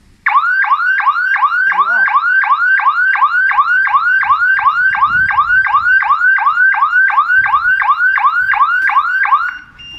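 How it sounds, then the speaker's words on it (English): A loud electric fence intruder alarm blares in a rapid, repeating rising whoop, cycling steadily for several seconds before cutting off near the end. "that will trigger the alarm after three seconds"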